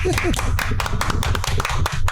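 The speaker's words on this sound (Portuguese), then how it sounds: "Uma salva de palmas, né?" A small audience gives a short round of clapping at a patriotic women's gathering, with sharp, uneven hand claps mixed with voices talking over them.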